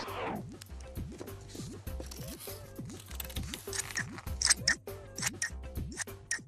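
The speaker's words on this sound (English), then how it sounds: "Now we can cut these shapes out, but be careful because scissors are sharp." Scissors snipping through paper to cut out shapes, a rapid series of close, crisp metallic cuts with blade scrapes, repeating in quick irregular rhythm over a light musical backing.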